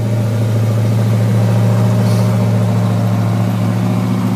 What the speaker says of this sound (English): A nice little rumble to it. Got those deep growlies on there.